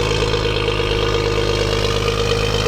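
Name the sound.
BMW 135i car engine idling with catless downpipes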